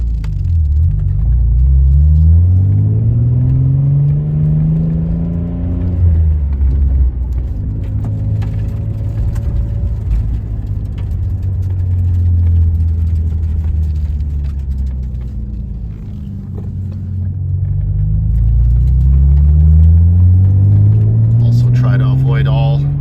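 A 1990 Nissan 300ZX on a mixed drive, its engine droning steadily with rising and falling pitch through gear changes and road rumble, loud and continuous throughout.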